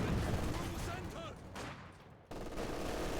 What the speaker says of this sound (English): You can see here though, Angeifen's mortar trying to snuff out Staff Sergeant's mortar